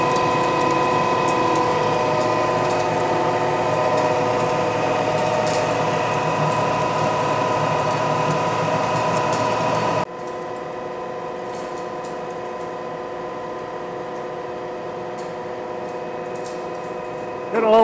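A Lion lathe turns a solid 8-inch steel shaft into a roller stub shaft, a steady mechanical drone with gear whine and hum, dropping suddenly to a quieter level about halfway through.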